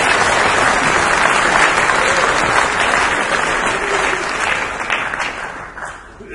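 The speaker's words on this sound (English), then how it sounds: "so they deserve a round of applause" Audience clapping at a New Zealand national brass band contest, a dense sustained burst of applause from a large hall crowd, loud at first and tapering off toward the end.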